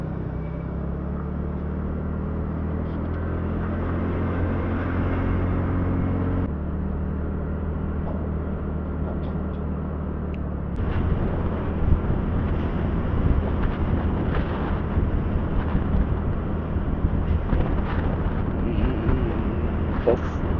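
A TVS Ntorq scooter riding along a road gives a steady, close engine drone mixed with rumbling wind noise for the whole stretch. It turns rougher and busier partway through.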